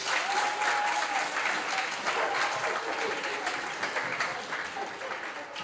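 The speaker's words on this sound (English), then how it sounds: "Give her a round of applause." Sustained crowd applause and cheering fill a gym during a senior night ceremony at an Eastern Tech volleyball match at Hereford, loud and steady throughout with voices mixed into the clapping.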